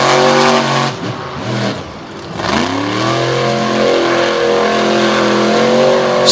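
A monster truck engine roars and revs hard with its tires spinning and smoking in front of a grandstand at a Lake Erie monster truck show, loud and close, with the pitch dipping and climbing again before holding steady.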